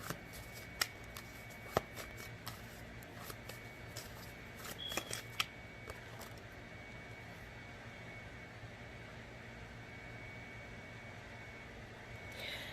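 Tarot cards are shuffled for a reading: a few sharp card snaps and riffles in the first half, then a quiet steady background hum with no talking.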